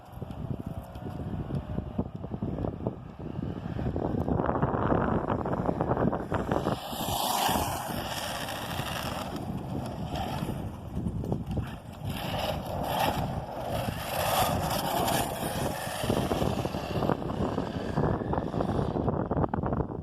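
An Arrma Talion 6S BLX radio-controlled car runs a full-throttle speed pass outdoors, producing a continuous loud, rushing roar for twenty seconds, heavily mixed with wind buffeting on the microphone.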